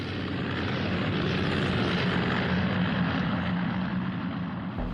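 Several light WW1-style propeller airplanes flying together in formation, a steady, loud engine drone that holds level and continuous throughout with no pauses.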